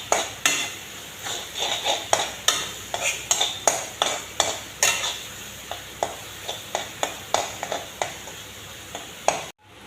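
Spices for a curry are sautéed in a pan, with a spatula scraping and clinking against the metal in a steady, rhythmic series of about twenty quick strokes over a faint sizzle, close and fairly loud.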